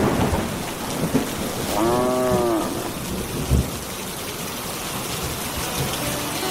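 Steady rain pours down through a rural storm while a cow lets out one drawn-out moo partway through, followed by a low thunder thump; the downpour continues alone afterward.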